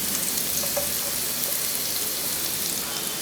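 Chopped onion frying in two tablespoons of desi ghee with hing and cumin seeds, a steady broadband sizzle that holds even and fairly loud throughout, with no voices.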